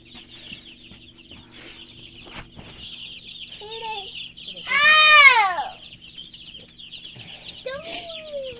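Baby chicks kept indoors give a constant high, thin peeping chorus, with one louder sharp cheep in the middle, a few soft knocks and a low hum beneath; brief voices of children and adults come in and out.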